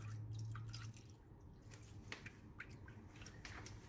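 Water is poured into a baking pan around a caramel egg flan to make a water bath, a quiet, close drip and trickle with soft splashes, steady and faint.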